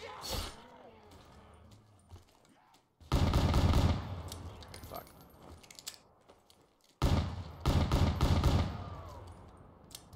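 Gunfire in Call of Duty Black Ops 3 comes in two loud, dense bursts of shots with game effects between them, and quieter ambient sound fills the gaps.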